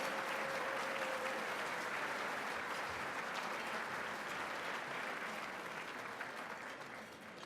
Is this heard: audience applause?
yes